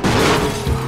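Car crash in the racing game Need for Speed: Most Wanted: a loud, dense crunching impact with broadband noise that holds for under a second, alone without talk.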